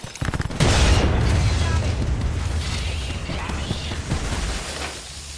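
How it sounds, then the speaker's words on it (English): A frag grenade detonates in Apex Legends with a loud, close boom that rolls into a long, rumbling decay lasting several seconds before fading. "Frag grenade."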